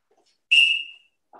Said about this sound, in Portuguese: No som do apito